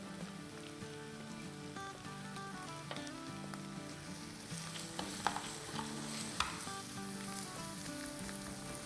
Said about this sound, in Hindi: बस 1 मिनट ही हमें गार्लिक को सौटे करना है